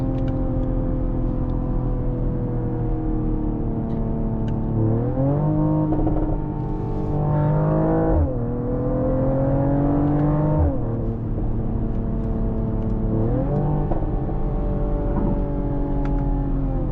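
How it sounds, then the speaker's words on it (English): A 2025 Mercedes-AMG GLE 53 Coupe accelerates hard from inside the cabin, its exhaust droning loudly and rising in pitch through several upshifts, each marked by a brief dip and climb. "Can you hear the exhaust?"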